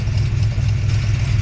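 Engine of a 1966 Mustang Coupe idling after a cold start, with a steady low rumble close by and no voices.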